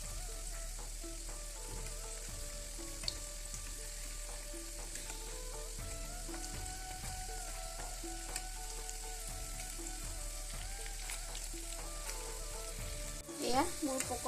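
Onion pakora fritters frying in oil in a pan, a steady bright sizzle running throughout with occasional soft stirring clinks, ending in a brief louder clatter.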